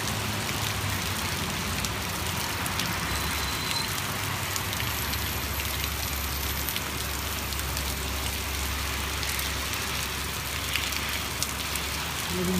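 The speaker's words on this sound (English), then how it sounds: "Letting you hear the sounds of rain and traffic." Steady rain falls on a street in Anaheim, a dense continuous hiss of drops with the low rumble of passing traffic, including trucks, underneath throughout, with no talking.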